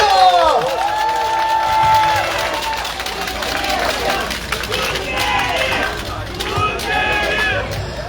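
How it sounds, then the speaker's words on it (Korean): A crowd at an outdoor campaign rally in a Jeju market cheers and applauds loudly for several seconds, with clapping, shouts and a whistle-like tone, under mixed voices. "용각산까지 드신 우리 문대림 국회의원님께 다시 한번 박수"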